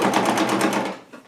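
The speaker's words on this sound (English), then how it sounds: "So I can go back to sewing." A sewing machine stitches strips of old clothes into a rug, running fast and steady with a rapid needle rhythm close by, then slowing and trailing off near the end.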